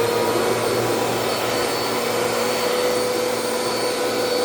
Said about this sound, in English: this thing will drag itself on carpets